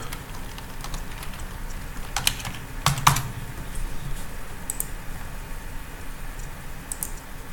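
Keys tapped on a computer keyboard while typing a word, scattered soft clicks over a low steady hum, with a slightly louder cluster near the middle.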